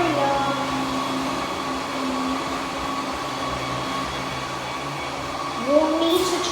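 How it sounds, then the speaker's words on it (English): A Roborock Q10V+ robot vacuum cleaning the floor keeps up a loud, steady motor whine and airflow hum throughout, with a brief brushing rise near the end and no talk. "let's watch it vacuum the area"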